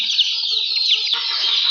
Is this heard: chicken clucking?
yes